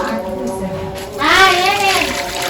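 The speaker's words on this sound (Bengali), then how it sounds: "পানি দিচ্ছে।" Water is poured into a container at home in a short, close, steady splash whose tone rises as the vessel fills.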